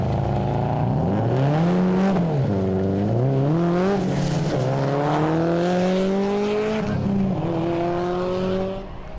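Rally car at full pace through a 20-kilometre Targa NZ special stage, engine revs rising and falling in sweeping gear changes for several seconds, loud and close with no talk.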